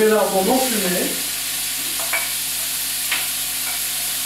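Finely chopped onions and unsmoked lardons frying in a little butter in a saucepan, a steady close sizzle with a stir and scrape near the start and a few light clicks.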